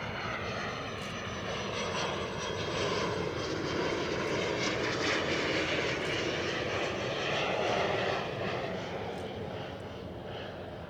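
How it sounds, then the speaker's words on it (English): A small jet aircraft flying in, heard as a sustained, steady engine roar that swells gently toward the middle and then eases slightly, moderately distant and with no talk. "So that was a small jet coming in."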